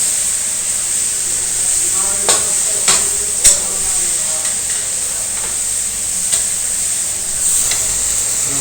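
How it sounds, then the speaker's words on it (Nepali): Chicken curry with tomatoes frying in a pan, a steady close sizzle with scattered scraping clicks of a stirring spoon throughout, no talking. "मैले चाहिँ 3-4 मिनट चलाएर फेरि टमाटर पनि मिक्स गरिदिइसकेँ"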